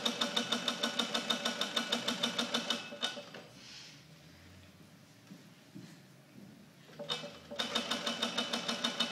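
A shoe sewing machine stitches close to the edge of the material, its rapid needle strokes hammering in a steady mechanical rhythm, pausing for a few seconds of quiet before running again.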